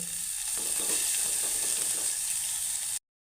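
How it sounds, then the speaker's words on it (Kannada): Onions, green chillies and curry leaves fry in a hot pan, making a loud, steady, close sizzle that holds without a break, then cuts off abruptly near the end. "ಈರುಳ್ಳಿ ಮೆಣಸು ಕರಿಬೇವು ಒಟ್ಟಿಗೆ ಹಾಕ್ತಾಯಿದ್ದೀನಿ ಹಾಕಿ ಸ್ವಲ್ಪ ಬಾಡಿಸ್ಕೊಳ್ಳುವ ಫ್ರೈ ಮಾಡ್ಕೊಂಡು"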